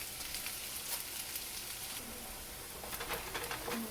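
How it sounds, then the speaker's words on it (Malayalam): Chopped onions with salt sautéing in a pan for a potato tomato curry, a faint steady sizzle with light stirring noises and no talk. "നമുക്കിതിലേക്ക് സവാള അരിഞ്ഞ് വെച്ചിരിക്കുന്നത് ആഡ് ചെയ്ത് കൊടുക്കാം."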